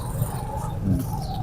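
Pigeons at a busy open-air pigeon market in Lahore give soft, low cooing calls, faint and close amid general background noise.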